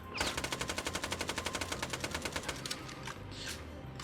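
A Hyperion gun in the Borderlands video game fires a rapid, even burst of about twenty sharp shots, then stops, leaving faint game sounds.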